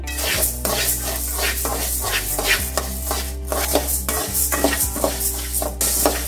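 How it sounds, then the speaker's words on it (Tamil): Urad dal roasting dry in a kadai over a low flame, stirred steadily. Repeated scraping and rattling strokes sound close, with a constant low hum underneath. "இப்போ வடைச்சட்டி அடுப்பில் வச்சுருக்கிறேன். ஃபஸ்ட்டு உளுந்தை வறுத்துக்கலாம்."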